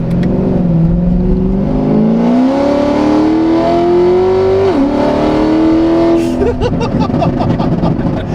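A loud modified, high-horsepower Corvette ZR1 engine revs steadily upward in pitch, drops, climbs again, then cuts off into a rapid series of crackling exhaust pops.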